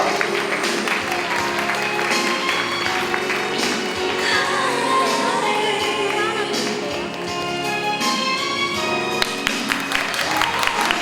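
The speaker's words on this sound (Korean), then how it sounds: "다시 한번 뜨거운 박수 부탁드리겠습니다" Wedding guests clapping at a ceremony, a dense, steady patter of applause in a reverberant hall that continues for the whole stretch, with faint voices mixed in beneath the clapping.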